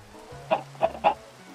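Chickens cluck in a Minecraft video game chicken farm, three short clucks spaced evenly over a low steady background hum.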